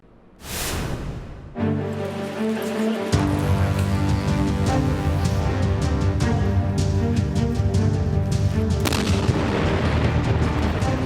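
A loud explosion booms out, followed by a sustained roaring rumble of the blast and a second sharp burst near the end.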